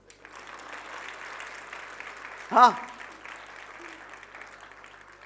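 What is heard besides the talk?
audience applause at prayer gathering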